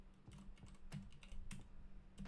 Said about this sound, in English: I'm sorry, I'm typing.